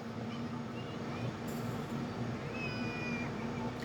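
Cats meowing indoors: a couple of faint, thin mews rise above a steady low hum, brief and somewhat distant.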